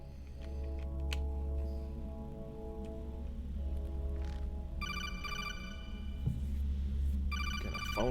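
A codec call rings in Metal Gear Solid: The Twin Snakes, loud electronic beeping tones repeating in bursts over a low droning game backdrop.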